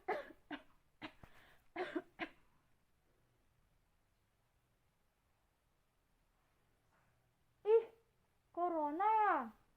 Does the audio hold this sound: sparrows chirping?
no